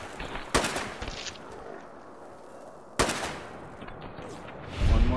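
Two loud, sharp gunshots in Fallout 4's Nuka-World, about two and a half seconds apart, each trailing a long reverberant tail under steady game ambience. A low rumble follows near the end.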